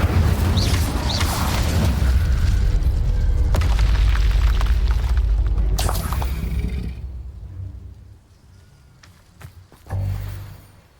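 A Bombarda spell detonates in Hogwarts Legacy, giving a heavy, rumbling blast that roars loudly for several seconds and then fades, followed by a quieter crash and a short final thump.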